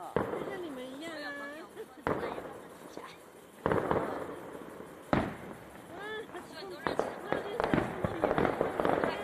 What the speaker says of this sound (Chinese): 把所有的钱这样买着烟火这样子吧